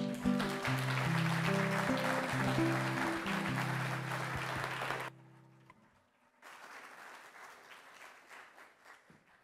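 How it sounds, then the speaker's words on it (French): Audience applauds at a public gathering, sustained and fairly loud at first, then dropping away and resuming more softly. "Je pense qu'elle mérite encore une autre bonne main d'applaudissements"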